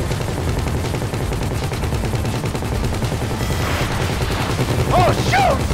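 Rapid, loud gunfire in Grand Theft Auto 5 Online, a dense continuous rattle of shots close up, with whooshing and sliding tones near the end.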